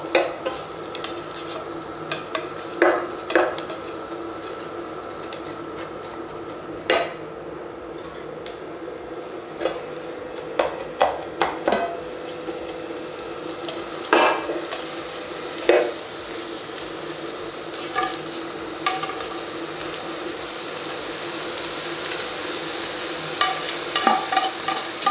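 Onions frying in a pan while being stirred, a steady sizzle beneath scattered sharp clicks and scrapes of a utensil against the pan, close and continuous over about twenty-five seconds.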